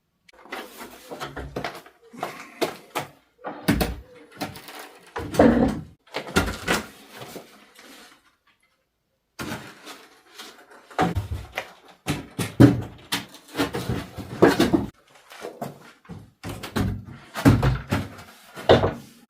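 Old wooden barn door panels are shifted and knocked together in a French cottage, giving a series of irregular hollow thuds, scrapes and bumps with a quiet pause in the middle.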